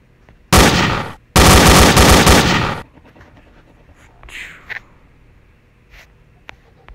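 Rapid gunfire from a weapon in the video game Team Fortress 2, two loud sustained bursts close together, followed by quieter scattered game sounds.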